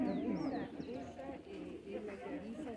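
Racing pigeons at a loft in San Pedro, including a large-cropped pouter, give soft low cooing throughout, mixed with other bird calls and heard under people talking nearby.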